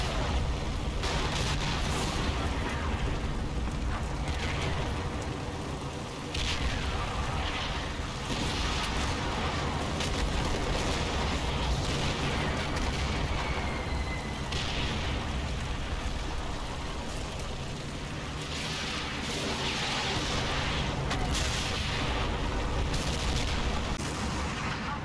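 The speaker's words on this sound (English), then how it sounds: "American artillery starts to fall on the factory again" American artillery shells falling on a factory in the WWII strategy game Combat Mission, a continuous rumble of distant blasts and crackle with repeated heavier impacts, no talk.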